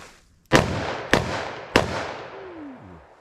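Three sharp .357 Magnum gunshots from a short-barreled handgun firing Underwood ammunition, each a loud crack with a decaying tail, spaced roughly half a second apart, followed by a faint falling tone.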